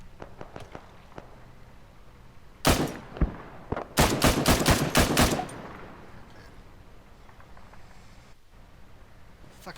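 PKP Pecheneg machine gun firing in ARMA 3, a single loud shot followed a second later by a short rapid burst of about six heavy reports, close and punchy, with faint thuds and scattered distant shots before and after.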